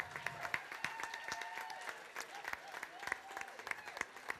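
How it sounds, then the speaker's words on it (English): An audience at the 2022 LGFA ladies' Gaelic football All-Stars awards claps for the honoured players, a faint, thin patter of scattered applause from a modest crowd. "please give a big round of applause again to our 2022 TG Carroll All-Stars"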